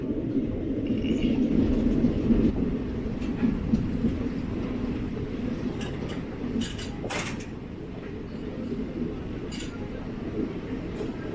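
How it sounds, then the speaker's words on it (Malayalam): The 12081 Kannur–Thiruvananthapuram express rolls into Poonkunnam station, a dense steady rumble of wheels and carriages with a brief squeal midway, heard continuously from on board. "നമ്മൾ ട്രെയിൻ പൂങ്കുന്നം സ്റ്റേഷനിലോട്ട് പ്രവേശിക്കുകയും ചെയ്തു"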